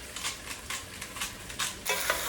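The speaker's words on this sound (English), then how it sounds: "the potatoes have been sauteing in there with the onion and olive oil for about 3 minutes" Potatoes and onion sauté in olive oil in a pan, a steady soft sizzle broken by repeated stirring scrapes at a regular pace, close and moderately loud with no talking.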